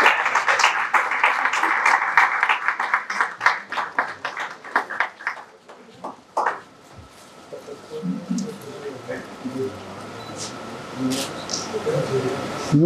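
Audience members at a book launch ceremony applaud with lively, close clapping for about six seconds, then it thins out as a person starts talking over faint scattered claps.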